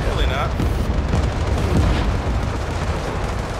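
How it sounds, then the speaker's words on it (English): Booming enemy airstrike explosions in the video game World War 3 rumble through a warzone, several heavy low blasts in quick succession, loud and close. "Enemy airstrike, fast approaching."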